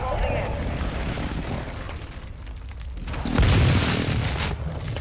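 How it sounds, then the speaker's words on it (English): Airstrike in Call of Duty Warzone, deep rumbling booms with a louder explosion surge near the middle, heard at some distance beneath game voice lines and player talk. "Friendly airstrike in the AO"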